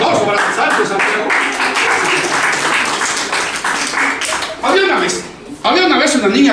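Clapping and applause from an audience at a Sunday children's storytelling session, a dense crackle of many hands that breaks off briefly and resumes, with voices mixed in throughout.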